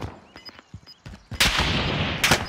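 Gunfire in a battle royale video game: a few scattered single shots, then a loud sustained burst of rapid fire with a second burst near the end, close and alone without talk.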